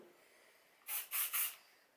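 Three quick, soft hissing bursts of hair texture spray in a row, close up, against a quiet background.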